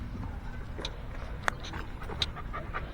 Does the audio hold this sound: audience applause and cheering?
no